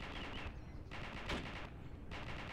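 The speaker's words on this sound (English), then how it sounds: "those tracers are still engaging our guys" Machine gun tracer fire in the video game Arma rattles as faint, distant bursts under a steady hiss, with a few sharper cracks breaking through in the middle.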